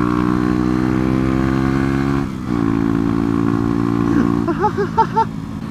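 A 125cc motorcycle being ridden, its small engine droning steadily and loudly close up, dropping briefly as the throttle eases, then rising again with a few quick revving pulses toward the end.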